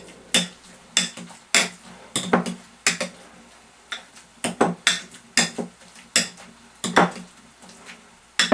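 Boiled potatoes with milk being mashed in a pot, a steady series of rhythmic thumps and clinks from the masher striking the pan, close and fairly loud with no talking.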